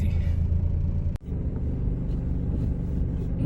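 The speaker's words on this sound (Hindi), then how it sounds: "शाम का टाइम है दुबई में और रोड पे ट्रैफिक थोड़ी सी ज़्यादा है।" Steady low rumble of evening road traffic on a busy street in Dubai, with cars passing continuously and a brief dropout near the start, heard from close by.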